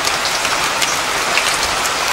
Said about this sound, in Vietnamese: trời mưa quá nè